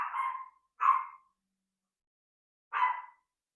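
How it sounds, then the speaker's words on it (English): Three sharp dog barks, the first a longer double bark, then a pause before a final single bark; fairly close and moderately loud, with no talking. "if you can hear my dog in the background just going off"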